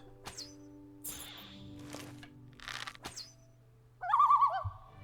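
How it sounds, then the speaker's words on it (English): Bird calls in the video game Oblivion with the Nehrim mod ring out over a low steady ambient hum, several short chirps and rustling bursts followed by a louder warbling trill near the end. "What was with the bird noise?"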